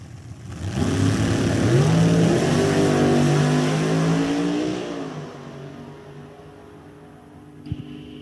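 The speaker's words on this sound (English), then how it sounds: "These will be the first two cars down the racetrack here." A pair of drag race cars launch side by side at a Jegs Sports Nationals drag strip, a loud rising engine roar that climbs in pitch for several seconds, then fades as the cars pull away down the track.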